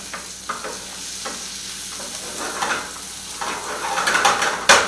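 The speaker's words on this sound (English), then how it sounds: "So let that cook just a second. Let those vegetables warm up a bit." Chopped vegetables and tomato for an omelette sizzle softly in a pan, with a spatula stirring and scraping in short bursts that grow busier and louder toward the end.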